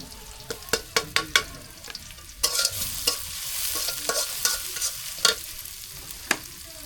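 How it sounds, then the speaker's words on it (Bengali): Papaya frying in a pan with black cumin, green chili and onion: a continuous sizzle under repeated close clacks and scrapes of a spoon stirring, irregular in rhythm, fairly loud, with no voices. "কালি জিরা দিয়া পেঁপে ভাজি"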